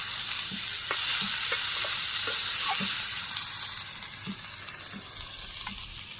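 Frying with salt in a home-kitchen pan: a constant hissing sizzle up close, with soft, regular taps and scrapes of a stirring spoon every half second or so, easing slightly toward the end.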